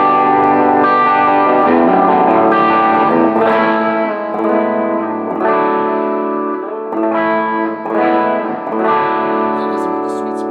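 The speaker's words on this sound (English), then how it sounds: "So this is with the sweet switch off." Heavily distorted PRS electric guitar with the sweet switch off, playing sustained chords and riffs, loud and thick with a saturated, compressed tone and slight reverb.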